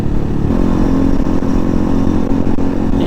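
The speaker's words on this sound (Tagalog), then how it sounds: "Ingay ng gulong." A trail motorcycle rolls along a mountain road in Porac, Pampanga, its tires making a loud, steady hum beneath the running engine, close up and continuous with no talk.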